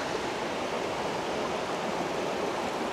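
A large waterfall in the USA, dropping from a cliff over 600 feet high in near-freezing air, roars as a dense, constant rush of falling water, loud and unbroken throughout.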